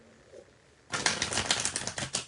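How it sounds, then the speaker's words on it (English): A deck of tarot cards gets a quick riffle shuffle: after a near-silent moment comes a brisk burst of rapid crisp flutters and snaps, close and fairly loud, lasting about a second and a half. "Okay, that was a beautiful shuffle."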